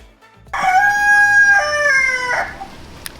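A rooster lets out one loud, close cock-a-doodle-doo lasting about two seconds, with a rising start and a drawn-out ending, followed by a quiet pause.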